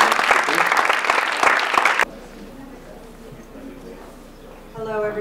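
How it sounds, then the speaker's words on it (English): Audience applause for speakers at an entrepreneur and investor talk event at Stanford: loud, dense clapping for about two seconds that cuts off abruptly, followed by quiet room tone and a brief voice at the end. "Let's have a round of applause for these speakers."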